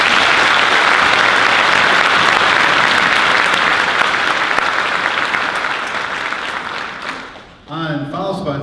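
Concert audience at a high school band fall concert clapping loudly and steadily for several seconds, then fading out as a voice begins speaking over the tail end.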